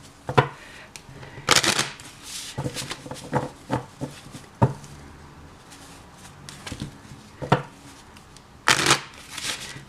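Tarot cards, two decks of Major Arcana, being shuffled by hand in repeated bursts of riffling and sliding, close and crisp, separated by short pauses with soft handling noises.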